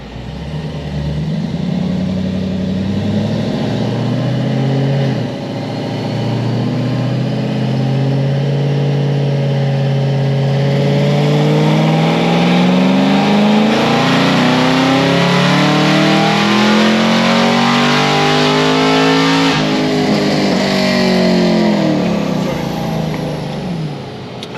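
A turbocharged car engine running on low boost and 93 octane pump gas revs loud and close, pitch sweeping up and down through repeated pulls for the whole stretch.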